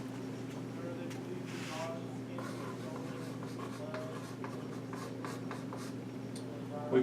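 Chalk scratches and taps across a classroom blackboard while a physics expression is written, producing a string of short strokes and clicks over a steady low room hum.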